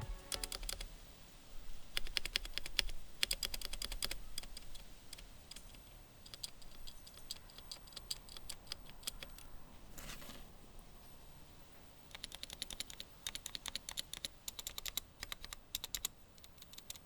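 Fast typing on a KBD75 mechanical keyboard with rattly, scratchy stabilizers, quiet close-up clatter coming in bursts of rapid keystrokes with short pauses between them.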